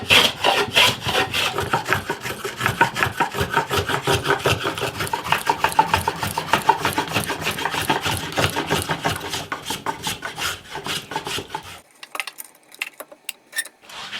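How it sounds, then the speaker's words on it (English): A hand plane smooths the wood of a guitar headstock in steady, rhythmic scraping strokes, close and fairly loud, for about twelve seconds before stopping into near silence with a few faint sounds. "So I'm just going to smooth this off now with this plane."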